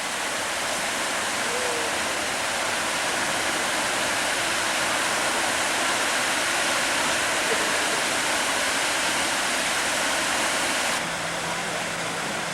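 Steady broadband rush of splashing fountain water in Oslo, continuous and fairly close, with no talking.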